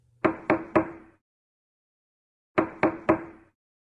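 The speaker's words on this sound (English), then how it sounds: "A knock came on her door." Two bursts of three sharp knocks on a bedroom door, loud and close, with a pause of over a second between the sets and silence around them.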